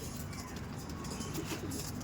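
Andhra Madrasi tournament flying pigeons coo softly and repeatedly, faint and close, under a steady background hiss.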